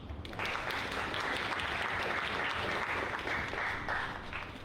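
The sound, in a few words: audience applause at awards livestream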